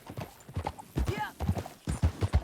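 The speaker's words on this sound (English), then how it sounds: "Back on your horse." Horse hooves galloping in the Red Dead Redemption 2 video game, a quick rhythmic clip-clop that is loud and close, with a brief whinny and a voice talking over it.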